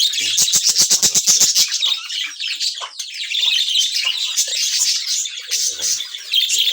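Japanese budgerigars kept as pet birds give a dense, close chorus of chirps and twitters. A quick burst of rhythmic chirps opens the clip, then steady overlapping chatter continues.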